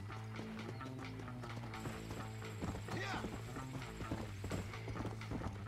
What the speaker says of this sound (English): riding the horse is a little different in this than it was in Origins 2